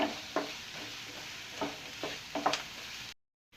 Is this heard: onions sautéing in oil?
yes